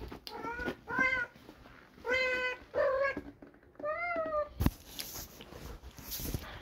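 A pet cat meows repeatedly indoors, five or six clear, close calls in an irregular series, followed by a sharp knock and some rustling.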